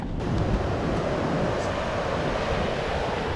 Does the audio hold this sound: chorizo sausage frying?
no